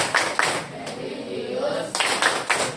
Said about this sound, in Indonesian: cek dulu semangatnya pagi ini dengan tepuk PPK seperti biasa